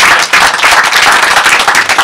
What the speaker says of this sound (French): Entreprise La Garde et la Rose, on peut les applaudir.